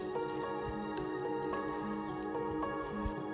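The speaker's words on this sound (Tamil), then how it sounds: "இதை வந்து நல்லா மிக்ஸ் பண்ணிக்கணும்" A mixture of mashed banana and sugar being stirred into a sweet bonda batter, giving steady wet squishing and dripping sounds close by, continuous throughout.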